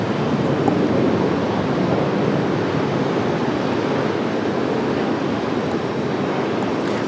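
A 27-year-old United Boeing 737-700 that has just landed at Raleigh-Durham after a swaying approach sends out a steady, fairly loud jet engine roar and rush, unbroken and free of speech.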